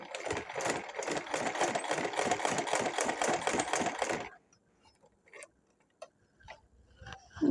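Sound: sewing machine stitching a school dress collar

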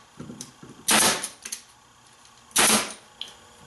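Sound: staple gun shots fixing webbing on Victorian chair

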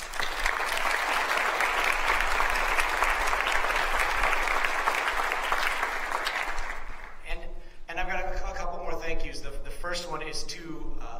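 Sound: audience applause at concert

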